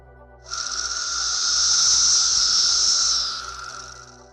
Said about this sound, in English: Magicicada cassini makes clicks followed by a buzz